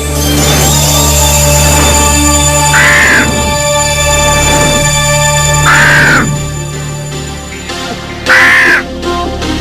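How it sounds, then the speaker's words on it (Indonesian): Crows caw loudly in a flock, with several separate harsh bursts spaced a few seconds apart over a constant droning background, close and prominent with no talking. "Ya, itu kumpulan gagaknya."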